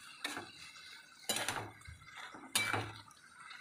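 Ridge gourd and sattu are stirred in a cooking pan, with three distinct scraping, sloshing strokes at roughly one-second intervals against a quiet kitchen background.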